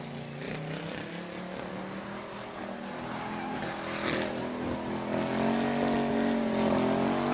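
A race car at a short-track speedway holds a sustained, loud burnout, its engine roaring and rising steadily in pitch over several seconds with no talk over it.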